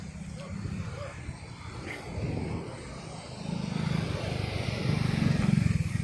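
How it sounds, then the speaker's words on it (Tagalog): A motorcycle passes by on a busy, crowded waterfront or fish landing spot in the Philippines, its engine drone swelling steadily louder toward the end amid chatter and background voices. "May motor pa."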